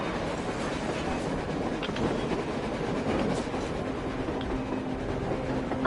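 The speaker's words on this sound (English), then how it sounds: "A train! A damn train on the surface!" A train rolls past on the surface in the video game Metro Exodus, a steady loud rumbling clatter with faint wheel squeal, and no talk over it.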